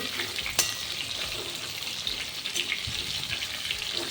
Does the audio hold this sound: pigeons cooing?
no